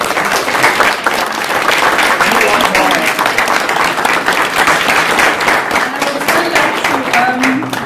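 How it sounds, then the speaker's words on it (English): Loud, sustained applause at a 2016 conference opening: a large audience clapping densely and evenly for the full stretch, with a faint murmur of voices mixed into the crowd noise. "And now the very big applause can come."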